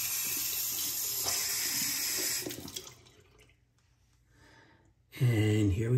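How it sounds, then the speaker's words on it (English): Tap water runs steadily into a sink to wet a razor, a bright hiss that stops partway through, followed by quiet and then a voice speaking close by. "Just wet the razor."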